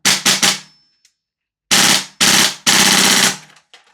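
Salvo Precision Spear LT 11.5 MWS gas blowback airsoft rifle firing, a loud close-up burst of three quick shots, a pause, then three longer rapid strings of cycling bolt cracks, with no talking.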